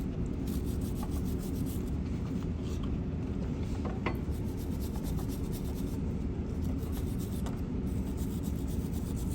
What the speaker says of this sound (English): Give this a light brush with a wire brush.